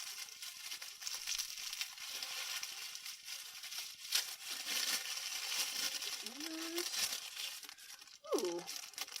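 Tissue paper crinkles and rustles softly as a subscription box is unpacked, a few light close crumpling bursts with small rattles near the end.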